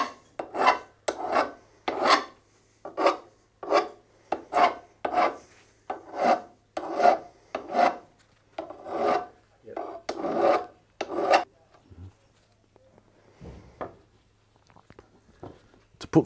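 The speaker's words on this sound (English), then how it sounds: "Cut through the steel and then just deburr the ends." Hand file rasping across the freshly cut end of a half-inch low carbon steel pipe, deburring it in about twenty quick, evenly spaced strokes, close and loud, then a pause with a couple of faint knocks.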